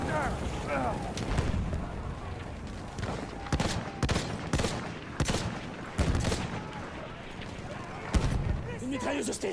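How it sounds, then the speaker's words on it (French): Enemy machine gun fire in the World War I shooter Battlefield 1, with bursts and sharp repeated reports amid a busy battlefield din, close and loud, with someone talking over it. "Une mitrailleuse hostile."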